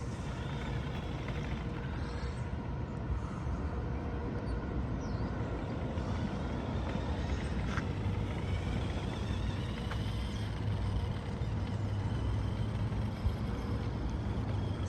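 A Tamiya Lunch Box RC truck rebuilt as a TMNT Party Wagon drives along, its small electric motor whirring steadily for the whole stretch over a constant broadband rumble, with no voices.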